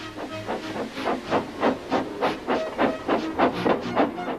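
Steam hisses out in rhythmic bursts, a locomotive chuffing in a steady, slightly quickening pattern at moderate volume.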